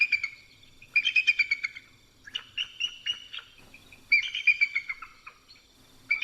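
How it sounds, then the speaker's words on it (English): A bald eagle gives a series of high, thin, chittering calls in several quick bursts, fairly close and clear, with no other sounds. "The sound that a bald eagle makes is actually this."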